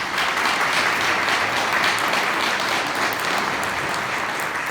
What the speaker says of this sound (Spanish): Entonces lo recibimos con un fuerte aplauso.